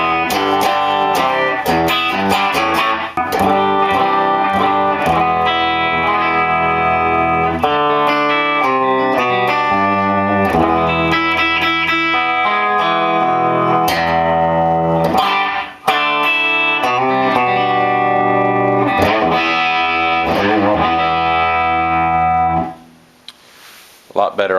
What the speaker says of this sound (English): Sounds way more like a Fender amp.